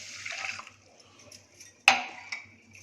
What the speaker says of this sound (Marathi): यामध्ये पाणी घालूया